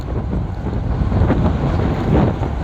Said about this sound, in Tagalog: medyo malakas na talaga yung hangin dito sa bayan ng Dimasalang